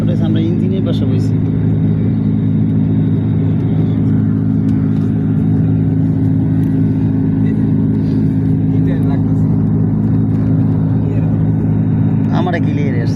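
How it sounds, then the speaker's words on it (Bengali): Airplane engine noise heard from a seat right beside the engine is a steady, loud, low rumbling drone with a constant tonal hum, and faint voices occasionally surface over it. "সমস্যাটা হচ্ছে আমরা ইঞ্জিনের পাশে বসছি।"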